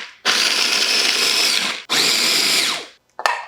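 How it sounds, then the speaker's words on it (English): A food processor grinds walnuts to a fine powder. The motor whirs loud and close in two long bursts, then gives a short third pulse with a brief gap of quiet between. "So pop the lid on, and we're gonna grind those pretty finely, almost to a powder"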